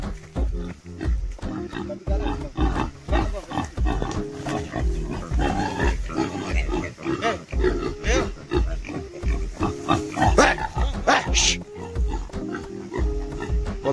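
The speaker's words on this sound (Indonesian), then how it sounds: "babi nyerang, babi nyerang, babinya nyerang" A pig attacking with a dog nearby, with repeated loud grunts and squeals in rapid, uneven bursts over a rural outdoor background. Excited voices and sharp cries break in, especially toward the end.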